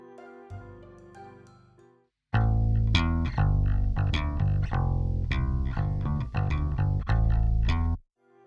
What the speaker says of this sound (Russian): в качестве дисторшена сегодня у нас будет Dewaster